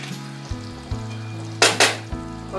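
Kofta curry with sliced green chillies and garam masala is stirred gently in a pan, soft sizzling beneath a few low thuds and two sharp scraping strokes of the spoon, close by.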